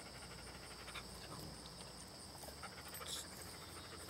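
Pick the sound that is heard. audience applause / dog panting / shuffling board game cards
dog panting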